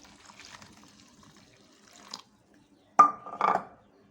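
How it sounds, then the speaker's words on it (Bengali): Hot water is poured onto beef and spice powder in a pot for homemade haleem. A faint trickle comes first, then two short, close splashing pours near the end. "এখন আমি এটার মধ্যে গরম পানি দিয়ে ভিজাই নেব।"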